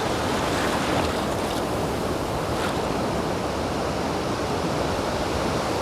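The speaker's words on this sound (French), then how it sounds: "C'est le ressac, c'est la mer qui prend," Ocean surf washing up and drawing back over a beach at night, a steady, dense roar of breaking waves and backwash that stays loud and unbroken throughout, with no voices.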